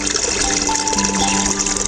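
Water bubbles and gushes steadily in the filter of a recirculating (RAS) fish pond system raising tilapia, a continuous close churning wash of aerated water with no voices.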